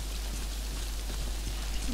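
Steady rain in the video game Death Stranding falls as an even, constant hiss throughout, with no voices.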